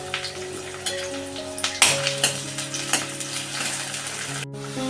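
Okra sautés in hot oil in a pan, a steady close sizzle with scattered crackles and a few sharper pops, heard with no talking.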